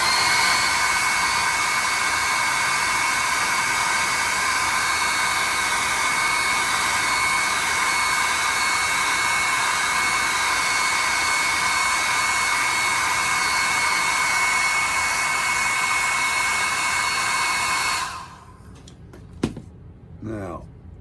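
A hair dryer blows steadily and loudly on a watercolor painting of a chickadee for about eighteen seconds, then switches off, leaving a few faint clicks and handling sounds.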